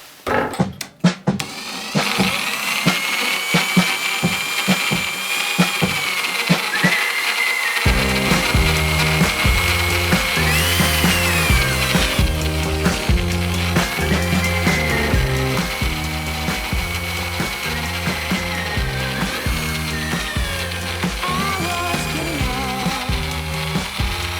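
Pro Craft impact drill boring into material, a loud continuous motor whine with rhythmic mechanical rattling that starts after a few sharp clicks and runs steadily throughout, close by with no talking.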